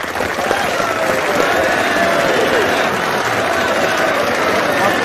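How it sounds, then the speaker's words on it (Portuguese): Applause and crowd noise run steadily through a Brazilian banking livestream, a continuous mid-level clatter with voices mixed in underneath. "Merece uma salva de palmas."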